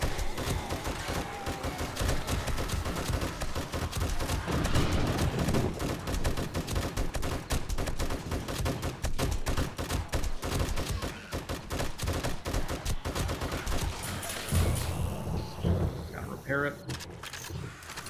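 Gunfire from the survival video game 7 Days to Die rattles in dense, rapid bursts almost continuously, loud and busy with game noise throughout, easing near the end.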